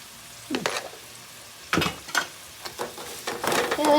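Chili powder is stirred into a lovi-lovi fruit pickle, with several short scraping, clattering bursts of spoon against pot coming close and fairly loud, separated by brief quiet gaps, and no one speaking.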